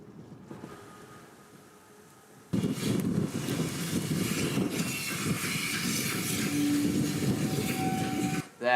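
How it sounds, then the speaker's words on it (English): A steam train chuffs after a quiet lead-in, its rhythmic exhaust beats bursting in loudly and carrying on steadily, with a short whistle-like tone near the end. "There we go, proper chuffing. That's what I like to hear."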